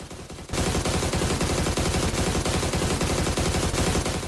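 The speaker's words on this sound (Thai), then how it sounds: "พี่กายทำไมยังไม่หยุดยิงอีกพี่ หยุดยิงไม่ได้ด" Sustained automatic gunfire from a video game, a dense, loud, rapid burst that starts abruptly after a half-second lead-in and keeps going without pause to the end.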